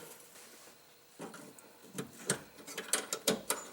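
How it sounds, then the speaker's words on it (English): A flat screwdriver pries safety clips off a Ford fuel line near the fuel tank, making a string of faint, close plastic clicks and snaps, sharp and irregular, with a quiet pause before them. "detach the safety clips with your flat screwdriver, just like that"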